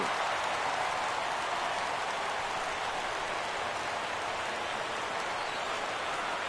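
Crowd noise from a baseball stadium in the MLB 17 video game, a dense, steady roar of cheering that holds loud and unbroken from start to finish, with no voices standing out.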